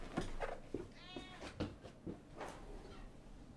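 A cat meows once or twice, close but fairly soft, against a quiet indoor room tone with no talking.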